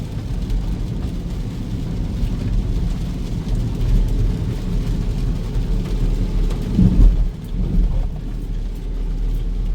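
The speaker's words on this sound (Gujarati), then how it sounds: "કન્ટિન્યુઅસલી ચાલુ છે વરસાદ" Steady rain falls continuously, a dense broadband hiss with a low rumble underneath and a brief louder swell near the end, with no voices.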